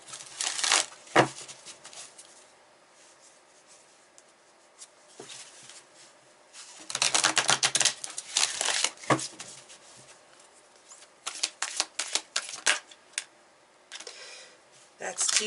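Tarot cards being shuffled by hand in bursts, crisp riffling flutters near the mic separated by quiet pauses, with brief soft speech in places.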